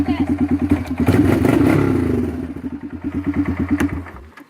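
A motorcycle with a loud, unmuffled exhaust idles close by with a throbbing sound, briefly revs up to a rougher roar, then drops back to a lumpy idle.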